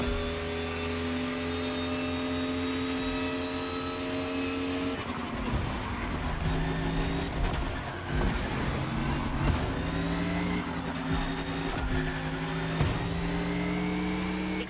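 Race cars in The Crew Motorfest, a steady high engine drone that breaks into revving, passing cars and squealing, skidding tires, loud and continuous with no talk.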